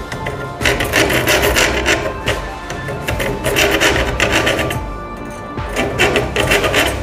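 A hand file rasps across the teeth of a saw blade being sharpened, a loud, continuous scraping that pulses in repeated strokes throughout, with no talk.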